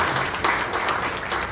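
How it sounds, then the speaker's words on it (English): An audience claps for an honoree at a Rotary club installation ceremony, a dense, even patter of many hands held at moderate loudness throughout. "A big round of applause for him, please."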